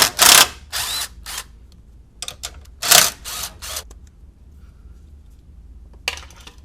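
Bursts of a power tool or ratchet working the power steering fan bolts loose on a MINI Cooper R50/R53 in a crowded engine bay, with several short whirring runs separated by pauses and a final brief burst.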